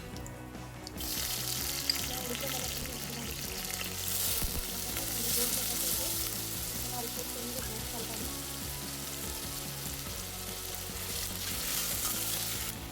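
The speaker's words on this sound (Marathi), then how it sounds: "तेल गरम झाले, आता जिरे घालू. जिरे छान कडकले की मिरची घालू." Cumin seeds crackle in hot oil, a dense continuous sizzle with fine popping that holds strong and close throughout, with faint background noise and no speech.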